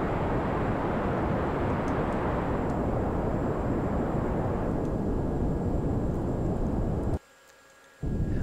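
Spacecraft engine burn in Kerbal Space Program, a loud, steady broadband rocket roar that holds constant for about seven seconds before cutting out abruptly, then returning briefly at the very end.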